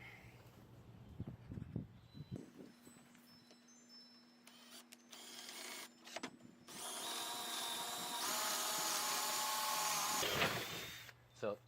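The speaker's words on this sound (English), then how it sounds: "let me go get the 1/4 inch drill bit and I'll drill right down through that" A power drill with a 1/4 inch bit bores through a bracket while assembling under-deck storage drawers, a rising motor whine for several seconds after some handling noises and brief speech, then a sudden stop.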